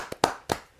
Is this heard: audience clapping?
yes